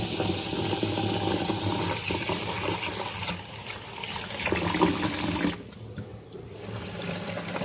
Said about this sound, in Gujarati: આ બધાને પાણીથી ધોઈ દઈશું.